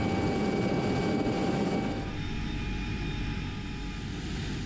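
A Mi-26 heavy transport helicopter, loud and steady, its broad rotor and turbine roar filling the air with a continuous droning whine that eases slightly partway through.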